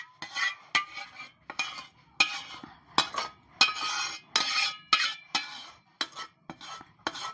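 A spoon stirs amla pickle with tamarind pulp in a bowl, making repeated close scraping clinks in a steady uneven rhythm of sharp strokes and wet shuffles.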